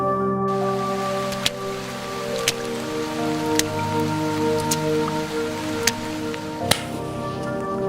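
Rain falls steadily on a surface as a continuous hiss, with a few sharp drips or knocks standing out now and then, heard alone with no voices.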